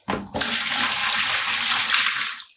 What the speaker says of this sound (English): I'm adding in water.